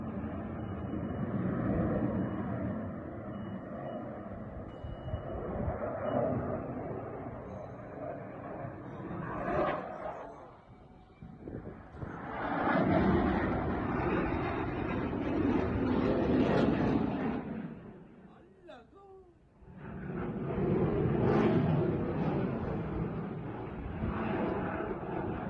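Distant roar of an F-18 jet at an airshow in Zaragoza, Spain, swelling and fading in long waves with short lulls between passes, faint and far off with no voices.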